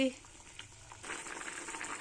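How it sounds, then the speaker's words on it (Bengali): Soft bubbling and sizzling from a pot of small-fish curry on a high gas flame grows steadier partway through, fairly quiet and close. "গ্যাসটা হাই ফ্লেমে রেখে এইভাবে ফুটছে"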